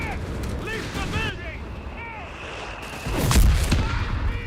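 A grenade blast in the Company of Heroes 3 strategy game bursts out as a loud low boom near the end, following stretches of battlefield noise under a commentator's talk.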